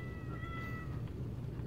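A cat meows faintly in Goat Simulator PayDay, one drawn-out wavering call over a dense, steady game background.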